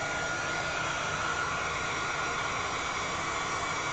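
A small hair dryer blows steadily, a constant whooshing hiss with no pauses, heard alone at close range.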